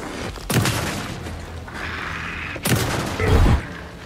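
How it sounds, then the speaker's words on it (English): Shotgun blasts in the horror video game Alan Wake 2: two loud, heavy booms a couple of seconds apart, each with a rumbling tail and mechanical clatter, no voice over them. "Shotgun."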